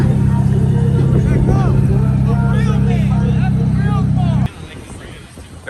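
An OZ Racing–wheeled car pulls up at an early-morning car meet, its loud steady engine drone rumbling close by for several seconds before cutting off, with people chatting over it throughout.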